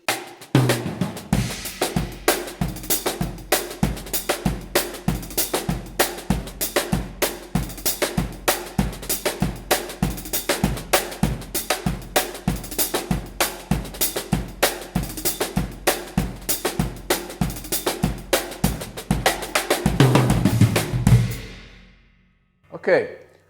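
A drum kit plays a steady, fast Sirto groove with crisp, dense hi-hat strokes over kick and snare. It is close and loud and runs for about twenty seconds before ending on a final hit.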